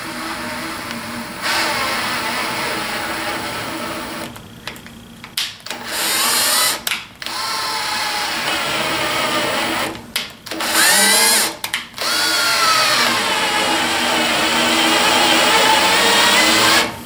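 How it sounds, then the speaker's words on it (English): Handheld power drill driving a tap to cut threads through a hole for a crosscut sled, a steady high whine broken by several short pauses and restarts, loud and close with no talk. "I'm just going to tap threads into that through hole"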